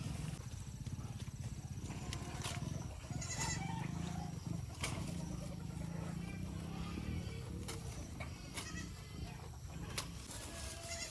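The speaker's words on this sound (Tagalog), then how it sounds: "ito yung mga kambing natin dito" Goats bleating at close range, several calls rising over a busy barnyard background of shuffling, knocks and clatter.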